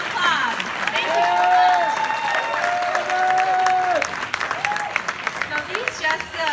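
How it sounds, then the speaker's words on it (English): A workshop crowd breaks into sustained applause with cheering and whoops, full and loud before thinning toward the end, as voices call out over the clapping. "Please give them another round of applause."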